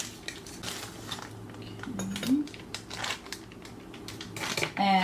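Brown sugar being stirred in a separate bowl while making apple pie bites: scattered clinks and scrapes of a utensil against the bowl, with a couple of brief vocal sounds.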